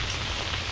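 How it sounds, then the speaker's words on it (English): Rain falls outdoors in Minnesota in January, a brief, dense hiss of drops that stays steady, with no voices. "it's raining out there. Raining in January."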